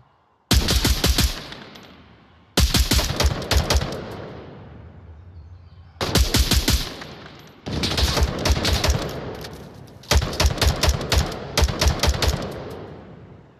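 Bursts of rapid automatic gunfire in the VR shooter Onward on Meta Quest 3, loud, close volleys separated by brief pauses and echoing tails.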